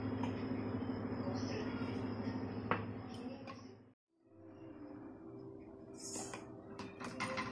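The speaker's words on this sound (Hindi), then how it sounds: "सबसे पहले हम खजूर को दूध डालकर ग्राइंड कर लेंगे," Mixer grinder whirring steadily as it grinds dates with milk, a dense continuous motor drone with rattling, pausing briefly midway before starting again, close and fairly loud.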